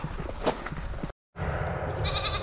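A goat tethered outdoors to graze bleats over steady rustling ambience, with a short silent gap partway through and a clearer, drawn-out bleat near the end.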